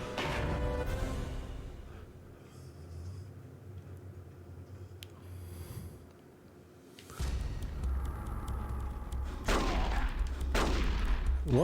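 Gunfire in Metal Gear Solid: The Twin Snakes comes as scattered shots and thuds over low background hum, fading into a quiet stretch before louder bursts of firing and impacts return toward the end.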